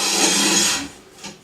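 A rod slides down the channel of a Moducase frame, giving a steady, close scraping rub for under a second that fades out, followed by a short fainter scrape.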